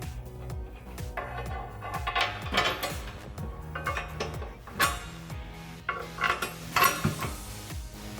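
Hand ratchet tightening nuts on the back of a steel DV8 FS-1 full-width front bumper on a Jeep Wrangler JK, with bursts of quick clicking and metallic clatter from the hardware in between.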